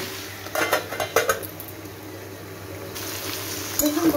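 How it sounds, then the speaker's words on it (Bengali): A metal lid is set onto a pot of mixed vegetable curry, with a few close, sharp clanks early on, then a low, steady kitchen hum and one last clink. "আমি আর একটা চাপা দিয়ে দিচ্ছি।"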